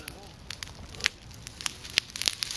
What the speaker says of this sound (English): if you're wondering what the crackling noise in the background is